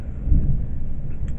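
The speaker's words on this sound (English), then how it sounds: "Mean thunderstorms." Low rolling thunder from a thunderstorm, a steady deep rumble that swells early and holds on loud without speech over it.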